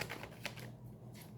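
Tarot cards being shuffled during a Hindi card reading, a few quick papery riffles and flicks in short bursts, close and fairly soft.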